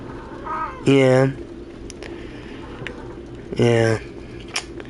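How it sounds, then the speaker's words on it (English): A pet cat meows twice, loud and close, each call drawn out and rising, separated by a few seconds of quiet room sound with faint background noise. "My cat is very talkative."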